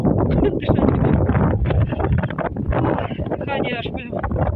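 Hurricane-force wind with snow roars and buffets loudly and continuously right at the microphone, while a voice can be heard beneath the gusts.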